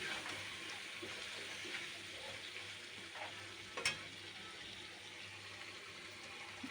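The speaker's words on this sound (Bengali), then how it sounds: "রসুনটা দেওয়ার পরে আরেকবার ভেজে নেব" Garlic fries in oil in a pan for a spicy broiler chicken curry, giving a faint, steady sizzle with a light stirring scrape. A single sharp clink sounds near the end.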